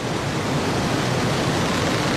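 Broadband roar of a wild, turbulent river rushing past its bank, steady and unbroken, with no voices.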